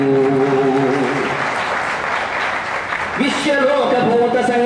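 Audience applause following a recited Telugu poem, a crowd clapping steadily throughout while a voice speaks over it at the start and again near the end.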